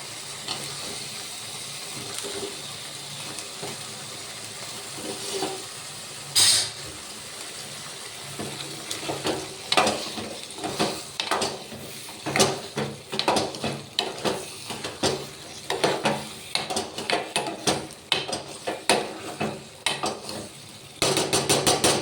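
Green beans and tender brinjal frying in a spiced pan, stirred with scrapes and clatters that come in irregular bursts over a steady close sizzle.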